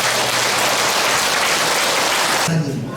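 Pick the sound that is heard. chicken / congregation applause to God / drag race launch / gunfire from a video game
congregation applause to God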